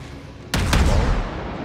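A quiet rumbling background gives way to a sudden heavy naval cannon blast in World of Warships, followed by a second boom and a lingering rumbling roar.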